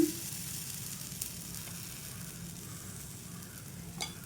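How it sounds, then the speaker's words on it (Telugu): Wheat flour and jaggery dosa frying in oil, with a steady soft sizzle holding throughout and a brief brighter crackle near the end. "ఇప్పుడు సైడ్స్ కొద్ది కొద్దిగా ఆయిల్ వేసుకుంటూ వేయించుకోవాలి"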